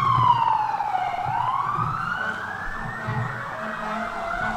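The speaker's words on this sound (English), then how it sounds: "those sirens are honoring Ukraine." Emergency vehicle sirens wail loudly at an outdoor Ukrainian flag raising ceremony, one tone sweeping down and then rising again while other sirens overlap in a sustained, layered chorus.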